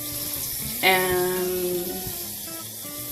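Water runs from a tap into a portable Zeny washing machine, a steady close rushing sound. One short spoken word is heard over it.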